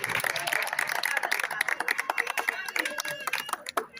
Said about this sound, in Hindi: जोरदार तालियां मिल गई